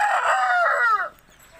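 A rooster crows once in a chicken coop, a loud, close, drawn-out cock-a-doodle-doo lasting about a second before fading to quiet farmyard background.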